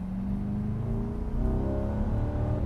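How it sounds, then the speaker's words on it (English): A Chevrolet Corvette C8 E-Ray hybrid V8 in its loudest exhaust mode rumbles steadily nearby, then its tone climbs slightly partway through as the engine picks up revs, with no voices over it. "Loudest exhaust mode."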